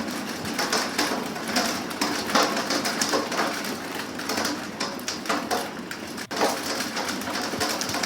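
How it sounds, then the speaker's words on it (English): A played-back hail sound effect gives a dense, continuous patter of small hard impacts across a broad range, steady and fairly loud, with one brief dropout near the end. "So if I'm, for instance, hail, like this hail one, let's play it."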